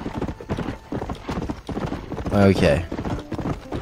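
Rhythmic clip-clop of horse hooves during riding in the video game Red Dead Redemption, with a brief horse whinny midway and someone talking over the steady hoofbeats.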